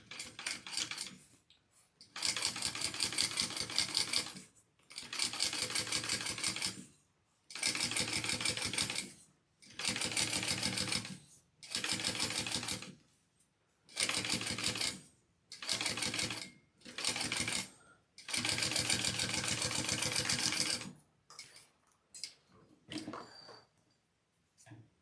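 Sewing machine top stitching along the band of a bag, running in a series of steady mechanical bursts separated by short pauses, close and fairly loud with no talk.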